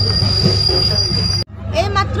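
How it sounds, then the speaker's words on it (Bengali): A train pulling into Sevoke station emits a loud, sustained high-pitched wheel squeal over a low rumble, which cuts off sharply and gives way to a softer rolling rumble with faint voices. "এই মাত্র সেবকে এসে ট্রেনটা ঢুকলো"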